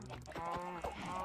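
Chickens in the Minecraft video game clucking close by, several quick overlapping squawks and clucks in a busy cluster, loud and near.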